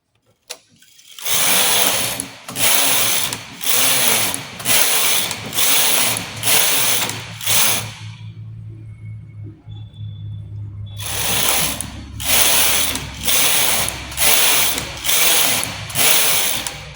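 A knitting machine carriage is pushed across a row of a lace-pattern vest, producing loud, rhythmic clattering strokes in two runs, with a quiet pause and low hum between them.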